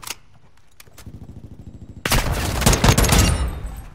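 Gunfire from the F-Tech Recon in a Call of Duty match: faint clicks and scattered pops at first, then a sudden loud burst of rapid shots and booms that fills the last two seconds.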